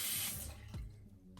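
A tap runs water briefly for mixing an eyebrow grooming product, a soft hissing stream that fades off within a second, quiet and close.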